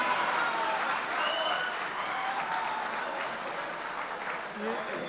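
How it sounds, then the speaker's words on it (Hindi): Audience clapping at a comic Hindi poetry performance in Dubai, broad steady applause from a large crowd, moderately loud and sustained, with a voice and some whistles or calls briefly cutting through. "ये आप पहले ताली बजा दे रहे।"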